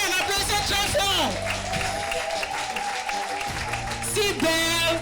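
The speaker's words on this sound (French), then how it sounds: "Applaudissez! Je n'entends pas bien, applaudissez très fort." An audience claps through a business opportunity presentation, a steady wash of applause and cheering beneath a loud, excited amplified voice speaking over it.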